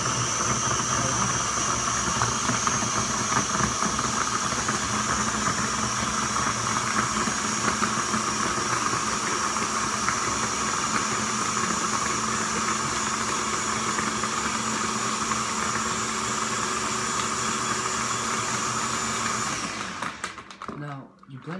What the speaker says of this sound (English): you blend it until there's no ice cubes left